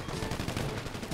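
Rapid bursts of gunfire from GTA V Online, a dense, continuous rattle of repeated shots that fills the whole moment at steady loudness with no speech over it.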